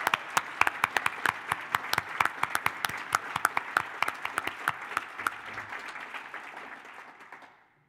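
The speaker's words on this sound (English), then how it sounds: "round of applause for all of them" Conference audience at an opening session applauds the chairs, with steady, fairly close clapping and sharp individual claps standing out, then fading out near the end.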